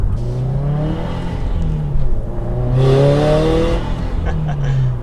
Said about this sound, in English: That was a second gear hitting full boost right there.